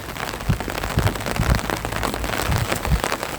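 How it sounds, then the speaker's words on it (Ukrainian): Steady rain falling outdoors, a dense continuous patter with occasional heavier drops spattering close by, no voices. "Цілий день є дощ. І зараз також."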